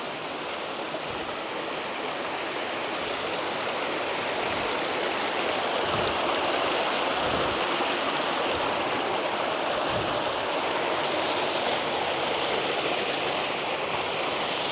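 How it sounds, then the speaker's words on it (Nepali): Steady, dense rush of a waterfall on the Ghata Khola stream in hilly Nepal, heard close and loud throughout with no breaks and no voices. "यो हो घाटा खोलाको झरना।"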